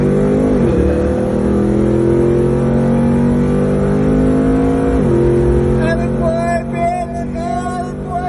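A vehicle's engine at a racing event drones steadily close by with slow pitch shifts as it rolls up alongside another, loud and continuous, with a voice faintly under it.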